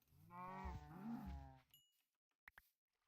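Cows mooing in the Minecraft video game: one long, loud, drawn-out moo close by, then silence broken by two short sharp hits.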